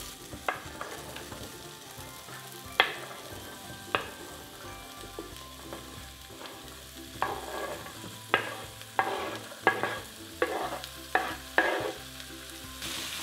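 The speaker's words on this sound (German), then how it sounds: "Mal durchrühren und dann das Suppengemüse so für ca. 5 Minuten bei mittlerer Hitze mit andünsten." Soup vegetables for a winter minestrone sauté in a pot over medium heat. A steady soft sizzle runs throughout, broken by repeated scraping stirs that grow more frequent toward the end, with no voices.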